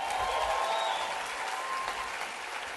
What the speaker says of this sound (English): Can we give a big round of applause for Lori and Chris Harder?